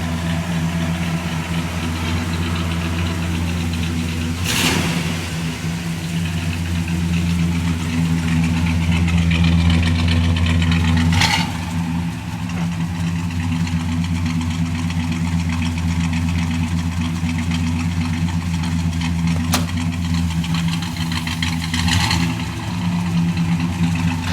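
A 1967 Pontiac LeMans engine running through a 2 1/4 inch exhaust, a steady deep idle close by, rising briefly in several short revs before settling back to a smooth rumble.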